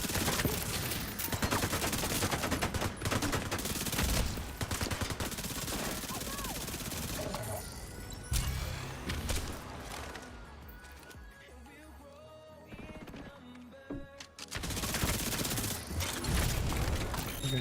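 Video game gunfire while clearing out enemies near gas turrets, with dense machine-gun bursts and explosive crashes running almost continuously and loud, thinning briefly in the middle before resuming.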